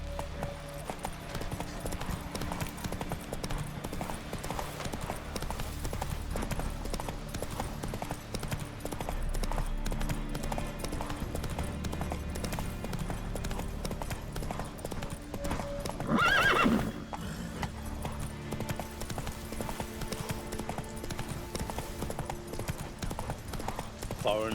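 Galloping hooves of Roach, the horse in The Witcher 3, beat in a fast continuous rhythm for the whole stretch, with a neigh rising briefly near the end over game music and voices.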